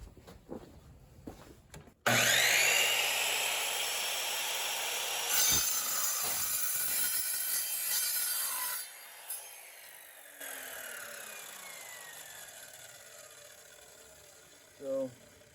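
A hand saw cuts spacers for a 1984 VW MK1 Rabbit Prius inverter install, a loud steady rasping stroke running for several seconds, pausing, then resuming less intensely, with brief talk before it starts.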